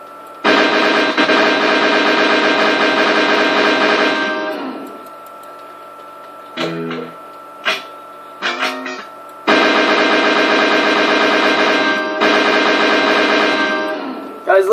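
The Odessa guitar gun fires in Garry's Mod in two long, loud, rapid-fire bursts of about four seconds each, separated by a quieter stretch of scattered clanks and short tonal blips.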